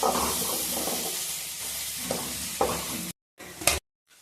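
Chopped tomatoes are stirred into a sizzling pan for a Chennai-style seela dry fish kuzhambu. A spoon scrapes in steady strokes over a constant frying hiss, then the sound cuts out in brief pauses near the end.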